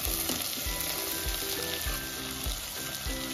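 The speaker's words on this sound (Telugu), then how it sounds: "కింద పెట్టుకొని ఇట్లా దగ్గరికి అయిన దాకా ఫ్రై చేసుకోవాలండి" Bitter gourd curry sizzles and fries steadily in a pan, a dense continuous crackle with soft stirring scrapes, close and loud throughout.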